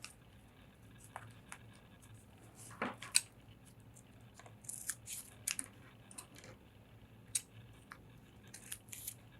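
Faint, close snips of scissors cutting a strip of double-sided tape into four pieces, a few quiet cuts spaced irregularly over a soft background hiss, with no voices.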